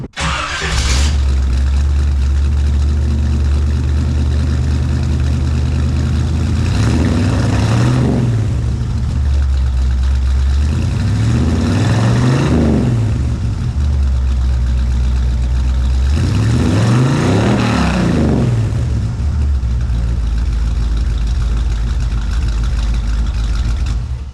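A 1957 Chevrolet Bel Air engine idles loudly and close, rising into three separate revs spaced several seconds apart, each swelling and falling back to a steady rumble.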